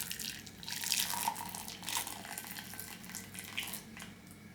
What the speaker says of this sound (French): verser le lait bien chaud dessus